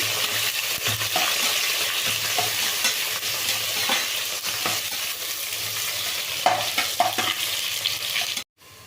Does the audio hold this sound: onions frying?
yes